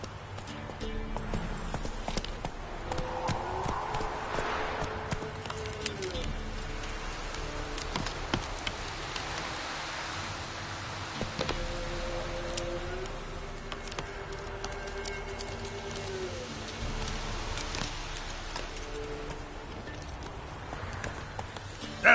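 Roach the horse gallops in The Witcher 3, hooves clip-clopping in a steady rhythmic patter over ambient game sound with tonal music-like drones throughout.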